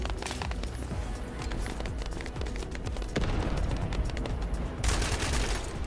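Rapid gunfire in The First Descendant as a player shoots at a tower, a loud, sustained stream of shots and impacts with a brief lull before another burst near the end.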